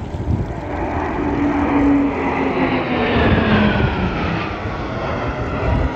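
Propeller aircraft of an aerobatic team fly in during an air show at Temora Aviation Museum, a steady loud engine drone with a slowly shifting pitch as the formation passes overhead, with no talking.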